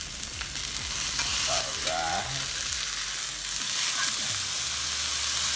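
A NY strip steak fries in a hot pan with a steady, close sizzle throughout, with a few faint scrapes and clinks.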